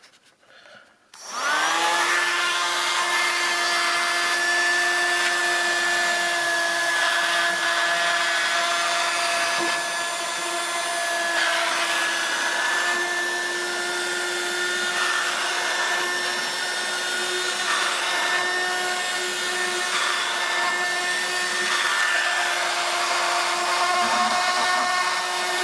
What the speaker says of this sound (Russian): Итак, пробуем пылесосить фильтр.